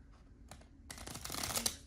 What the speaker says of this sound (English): that was a lot harder to shuffle than I thought